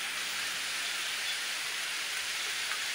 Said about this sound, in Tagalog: Napakalakas na ng ulan.